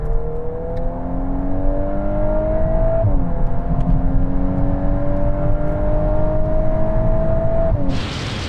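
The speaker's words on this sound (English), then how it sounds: "let's take the launch out of the equation by doing a rolling race in third from 50 miles an hour" Honda Civic Type R and VW Golf R accelerating hard side by side in third gear from a 50 mph rolling start, a loud steady engine drone rising in pitch, dipping briefly at a shift near the middle and again at the end.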